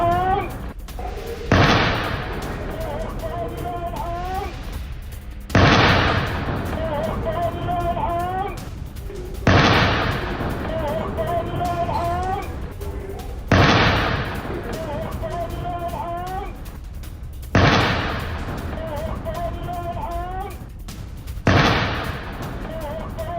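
Gunfire during an attack on an Israeli army vehicle in Jenin in the West Bank, six sharp heavy shots spaced evenly several seconds apart, each ringing out, with voices and other noise between them.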